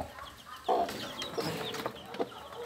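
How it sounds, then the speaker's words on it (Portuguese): A hen with her chicks clucks a few times close by in a backyard coop, short soft calls spaced across a quiet farmyard background. "Aqui a galinha dos pintinhos."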